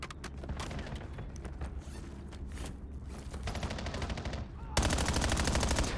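Black Ops 7 gunfire, dense automatic bursts crackling in rapid rhythm, loud and sustained, with a heavier continuous burst near the end.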